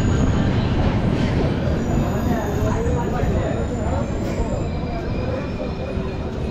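The Rupasi Bangla Express 12883 running between stations toward Purulia, a steady heavy rumble of wheels and carriage noise close by from onboard, continuous and loud throughout with faint voices blended in.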